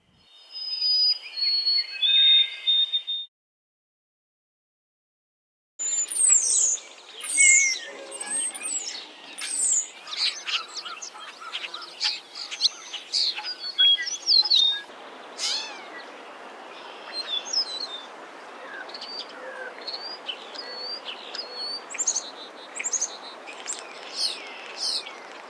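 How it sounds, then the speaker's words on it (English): A white-throated sparrow sings a few clear, high, drawn-out whistled notes, followed by a pause and then a long run of busy, varied bird chirps and whistles. "Song of the White-Throated Sparrow."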